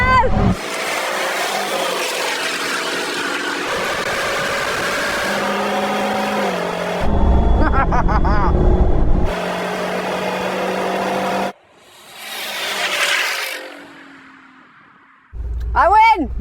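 A Ford F-150 VelociRaptor 6x6 drag racing a Hennessey Venom 775 at a monster truck show: loud roaring engines climb and drop through gear changes, cut out briefly, then surge again near the end.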